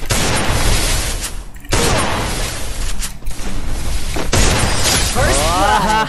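Rapid bursts of video game gunfire ending in a headshot, loud and close, with dense repeated shots broken by brief pauses and a whooshing game effect near the end.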